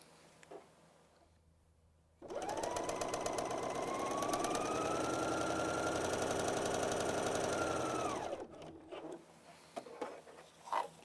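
A Bernina L 660 overlocker sewing a decorative rolled hem, whirring loudly and steadily up close for about six seconds after a quiet start, then stopping, with soft handling clatter around it.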